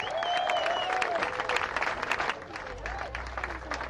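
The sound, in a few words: audience applause for Northeast Los Angeles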